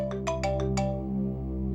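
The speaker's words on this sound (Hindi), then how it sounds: "डीसीपी चित्रों ने मुझे क्यों फोन करा?" A phone ringtone chimes several quick electronic notes, then holds a sustained tone, clear and close, with no talking.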